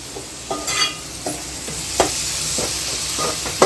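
Tomatoes frying with ginger paste in a pan for egg pulusu, a soft sizzle under repeated clinks and scrapes of a spoon stirring against the pan, close up with several distinct knocks.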